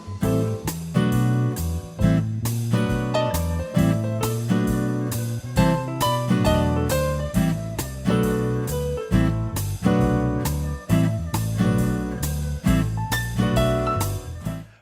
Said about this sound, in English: I'm playing a PRS SE Angelus acoustic guitar